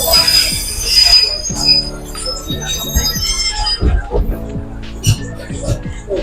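A train pulls into Old Harbour station in Jamaica, its wheels squealing loudly and grinding on the rails while rhythmic clanks and knocks repeat beneath, with talk mixed in.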